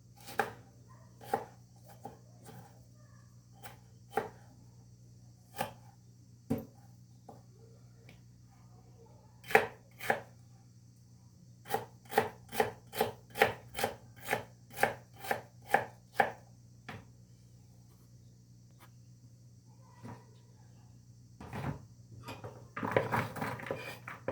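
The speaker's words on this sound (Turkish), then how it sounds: "Yemeğimizin soğanını iri iri çok kalın olmayacak şekilde yarım ay şeklinde doğruyoruz." A knife chops onion on a cutting board, first in scattered taps, then a quick rhythmic run of cuts, close and fairly quiet.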